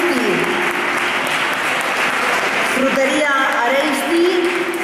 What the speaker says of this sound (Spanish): con un poquito de aplauso además se animan más.